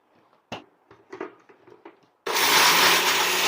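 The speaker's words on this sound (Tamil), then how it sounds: "இது கொடுத்து நீங்க மிஷின்ல வேணாலும் அரைச்சிக்கலாம், மிக்சியில வேணாலும் அரைச்சிக்கலாங்க." A mixer grinder grinding roasted grains into health mix powder: a few quiet knocks and rattles of the jar being handled, then the motor suddenly roars up into a loud, dense, continuous whir close by.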